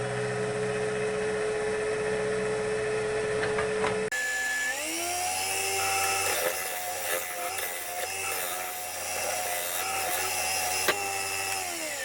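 A woodturning lathe spins a cracked wooden bowl or vessel while the outside is shaped. A steady motor whine runs throughout, then a tool bites in partway through, adding a louder, rougher scraping hum that carries on to the end.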